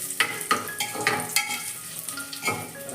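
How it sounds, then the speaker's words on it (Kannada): Raisins fry in oil for chicken biryani, a hissing sizzle broken by repeated scrapes and clinks as a spoon stirs them around the pan at an uneven, steady pace. "ಇದಕ್ಕೆ ದ್ರಾಕ್ಷಿ ಆ್ಯಡ್ ಮಾಡ್ತಿದ್ದೇನೆ. ಆಯ್ತಲ್ಲ, ಚೆನ್ನಾಗಿ ಮಿಕ್ಸ್ ಮಾಡ್ಕೊಳ್ಳುವ"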